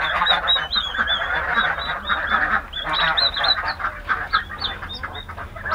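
Ducklings and other farm fowl call in a backyard garden pen, a busy chorus of honking, quacking and peeping close by, continuous and fairly loud with no talking.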